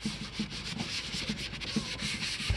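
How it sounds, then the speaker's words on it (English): Steady back-and-forth rasping of a sanding block roughening up a wooden furniture surface, rhythmic strokes repeating at an even pace, close and moderately loud. "grab your sanding block and you're going to give it a little sand to roughen it up"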